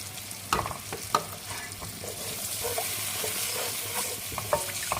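Chicken being fried with soy sauce, sizzling in a pan while stirred, with several sharp clinks and scrapes of a utensil against the pan over a steady crackle.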